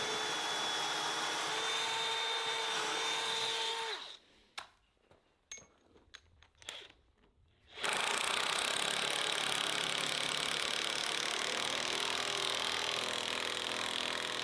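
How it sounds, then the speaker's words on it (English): Impact driver sinking lag bolts into hardwood while building a log deck, heard as a loud steady whirring burst that cuts off into a few seconds of quiet clatter before starting again and running to the end. "this impact struggled on the lag bolts"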